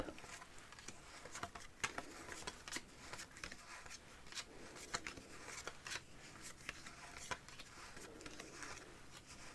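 Quiet, quick papery flicks and slaps as playing cards are dealt face up for a game of piquet, one after another in an uneven rhythm, close by with no talking.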